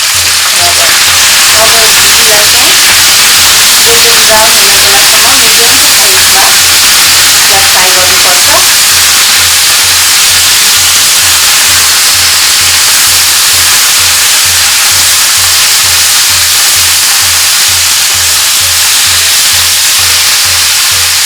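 Okra frying with salt in a pan over medium-high heat gives a steady, fairly loud sizzle. A low rhythmic hum pulses underneath throughout, and a voice is briefly heard near the start.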